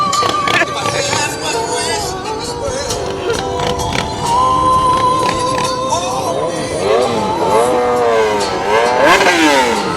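Motorcycles decorated with garland, bows and flashing lights rev and rumble past in a Christmas parade, engines loud and close with rising throttle sweeps near the end.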